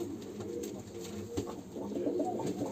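Pigeons coo softly in an enclosed coop, with scattered rustling and occasional wing flutters nearby.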